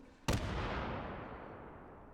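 A single high explosive grenade detonates in the VR shooter H3VR, a sudden sharp blast followed by a long rumbling decay that fades out over about two seconds, with no voices.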